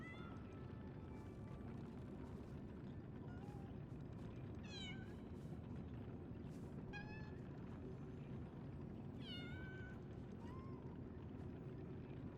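A small kitten in the video game Lies of P gives several short, rising meows at a steady interval over a loud, constant rumbling ambience. No one speaks.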